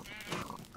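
Pig from the Minecraft video game fired from a launcher, giving a brief oink-like squeal under a steady, busy game soundscape; short and fairly close.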